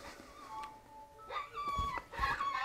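An affordable electronic predator game caller from Extreme Dimensions plays recorded dog whimpers and yips, a few short whining cries rising and falling in quick succession, moderately loud and close, with no talking.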